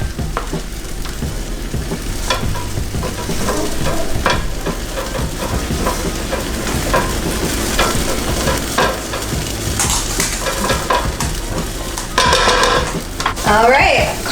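Collard greens being stirred in a pan with garlic sizzling, a steady frying hiss running throughout with occasional scraping and utensil clatter, close and moderately loud.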